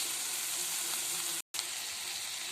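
Mutton sizzling steadily in a pan with ginger garlic paste and 50 grams of butter, a loud, dense frying hiss that drops out briefly for a moment before resuming.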